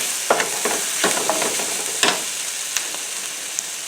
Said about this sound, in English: just keep stirring those peppers and onions so we can get them nice and soft